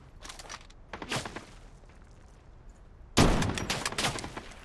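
Bursts of automatic gunfire in the BloodStrike shooter game, a few scattered rattling volleys early on, then a sudden loud, sustained burst close by near the end.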